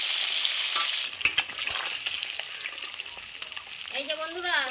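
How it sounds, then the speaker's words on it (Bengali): Rohu fish pieces sizzling loudly in hot oil as they are flipped, a continuous crackling hiss with a few sharp spatters and utensil clicks partway through. "মাছগুলো উল্টে দিচ্ছি।"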